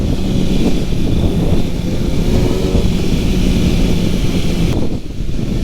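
A 2010 Kawasaki ZX6R sport motorcycle with a Stage 1 tune roars loud and close in a steady, continuous drone, dipping briefly near the end.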